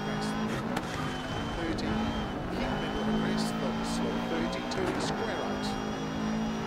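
Rally car driving a tarmac section in Dirt Rally 2.0, Colin McRae add-on in Australia 1995, sliding and unsettled; steady engine drone with faint tire noise runs continuously beneath someone talking.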